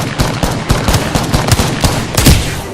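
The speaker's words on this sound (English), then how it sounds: "I'm getting shot at." Rapid automatic gunfire from an Apex Legends match, dense bursts of shots and impacts firing almost continuously at close range, loud and busy throughout.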